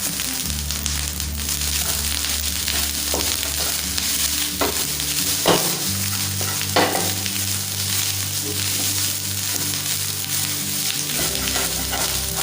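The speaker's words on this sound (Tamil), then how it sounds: "ஆட் பண்ணதுக்கப்புறமா சாட்டே பண்ணணும்." Rice for mango rice sizzles in a pan as it is sautéed, with steady frying hiss, scraping stirs at irregular moments and a low hum of the stove beneath.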